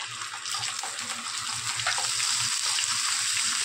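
Curry leaves and ginger-garlic paste frying in hot oil for a white radish dish, giving a steady, loud, close hiss of sizzling that stays constant throughout with no talking.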